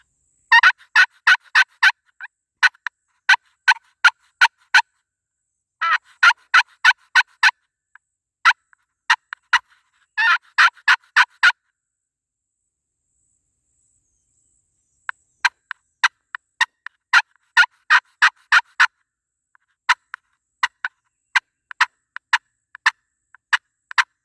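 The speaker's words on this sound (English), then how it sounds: "I heard that one gobble from way out there" A wild turkey in a Florida swamp gives repeated gobbling bursts, each a rapid rattling string of pulses, separated by silent gaps.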